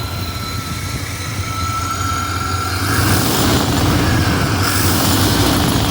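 Engine of a 1995 Chevy idling after an intake manifold replacement, a steady loud rumble that swells slightly about halfway through and then holds, with no talking.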